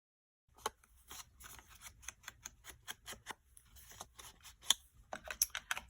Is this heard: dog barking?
no